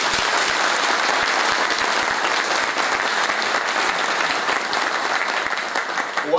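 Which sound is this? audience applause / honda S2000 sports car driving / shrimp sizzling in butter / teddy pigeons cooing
audience applause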